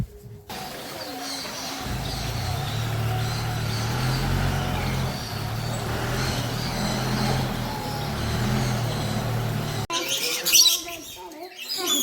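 Small, colourful birds chirp in a bird park, a steady blend of twittering over a low rumble of background noise that runs for most of the stretch, ending with brief closer, busier sounds.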